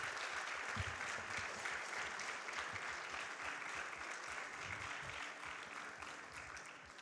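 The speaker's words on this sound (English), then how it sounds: "can we get one more round of applause for an excellent run?" Steady applause from a large audience at a Summer Games Done Quick 2018 speedrun marathon event, a dense continuous wash of clapping that holds evenly for several seconds before easing slightly.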